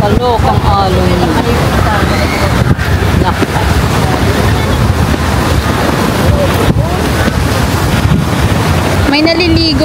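Strong waves surging on Boracay beach, a continuous loud wash of surf mixed with heavy wind buffeting the microphone, with people talking over it throughout.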